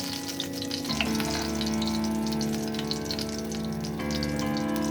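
Spices hitting hot oil in a pan for shahi gobi kofta, a steady loud sizzle that jumps up sharply about a second in and again near four seconds, with no voices.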